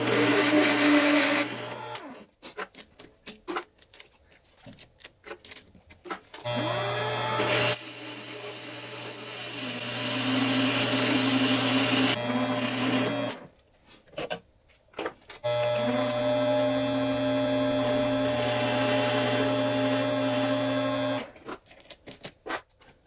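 A mini lathe turns aluminum spacers during a turbo Mustang accessory drive repair, running in three long steady stretches of whirring machining separated by short pauses with clicks and handling noises.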